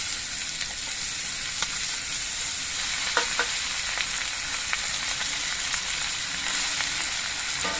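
Mixed vegetables frying in hot oil with nigella seeds and green chillies, a constant close sizzle with small crackles and a few spatula taps against the pan, no voices.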